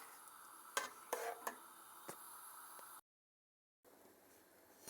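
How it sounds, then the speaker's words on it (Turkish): A spoon stirs red pepper jam cooking in a pot, giving soft scraping and a few sharp clinks against the pot over a quiet simmering hiss, then a short silence. "Ara ara böyle karıştırarak pişiriyorum."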